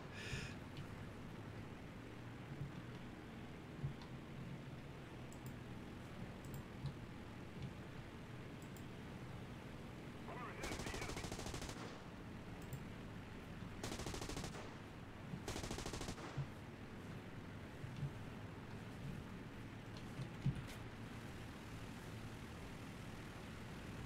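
Machine gun fire from biplanes in an Italian Civil War video game, rapid distant bursts over a steady engine drone and background hum, with a few louder sharp volleys, no talking.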